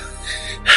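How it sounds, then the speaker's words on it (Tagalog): A person breathes heavily after walking, a sustained breathy exhale followed by a sharper, louder gasping intake, close to the microphone. "Grabe yung hingal ko"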